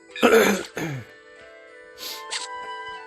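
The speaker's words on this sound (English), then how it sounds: "A little tickly cough in my throat, which is annoying" A single throat-clearing cough up close, followed by a short quieter rasp, then near silence with a faint hum.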